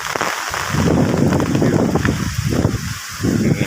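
Strong wind roars through a remote village in Trenggalek during a rainy, windy day, a loud rushing noise with pulsing gusts and brief dips.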